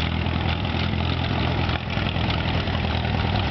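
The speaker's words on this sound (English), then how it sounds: "As the workers are getting all of the tractors fired up and checked out" Tractor engines idle steadily while being started and checked before an estate auction, a close, continuous low rumble without a break and with no talking.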